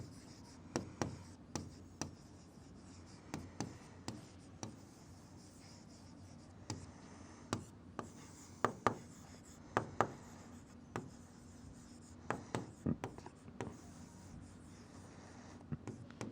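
A pen scratches across paper while a geometry solution on triangles is written out, with quiet, irregular bursts of strokes and taps separated by short pauses and no talking.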